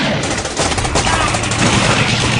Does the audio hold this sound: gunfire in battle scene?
yes